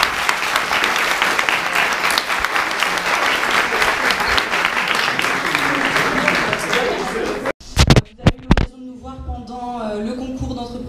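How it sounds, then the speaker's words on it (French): A crowd at a youth eloquence competition final gives loud, sustained applause for about seven seconds, which cuts off abruptly before a voice begins speaking. "merci d'offrir vos applaudissements"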